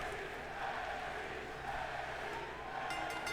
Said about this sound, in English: Crowd is going absolutely nuts for this.